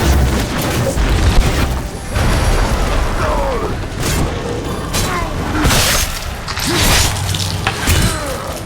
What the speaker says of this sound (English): One final explosion and there we go.